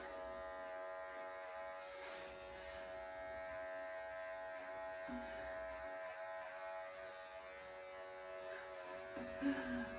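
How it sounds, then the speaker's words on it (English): Electric clippers buzz steadily through the thick coat of a doodle being given a poodle-style shave, a constant close hum running the whole time with slight shifts in pitch as the blade moves. "we're gonna shave all of that off"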